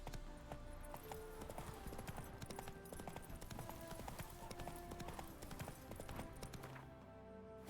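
Roach, Geralt's horse in The Witcher 3: Wild Hunt, trots with steady, rhythmic clip-clopping hooves. The hoofbeats are close, fairly faint and continuous, set against a quiet ambient game background with no talk.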